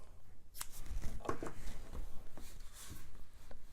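Scissors cut through yarn at close range, giving a few short crisp snips and rustles of the thread being handled.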